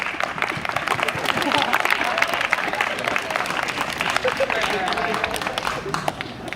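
A comedy show audience claps continuously and loudly for several seconds, a dense, sustained patter of applause with scattered voices mixed in.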